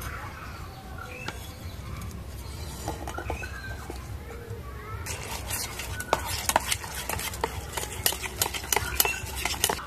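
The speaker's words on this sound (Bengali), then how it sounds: "দুটো একসঙ্গে মিশিয়ে আমি ফাটিয়ে নেব ভালো করে" Powdered sugar and half a cup of oil are beaten together in a bowl, making quick, busy scraping and tapping strokes that grow faster and sharper, with a little faint background noise.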